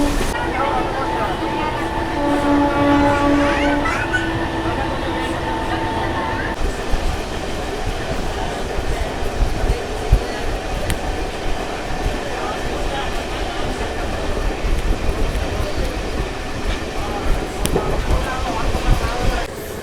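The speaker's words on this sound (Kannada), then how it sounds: "Mangaluru Vijayapura train express crossing." An express train on the Mangaluru–Vijayapura run passes a halted MEMU train; a couple of horn tones sound early, then a steady close rumble and clatter of rolling wagons fills the rest.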